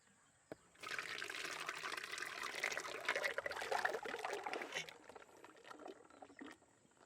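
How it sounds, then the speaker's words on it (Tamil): Homemade ice cream mixture pours steadily into a tin in a village kitchen, making a continuous liquid stream that lasts about four seconds before tapering off to quiet. "அடுத்து டப்பாவுக்கு ஊற்றிக்கலாம்"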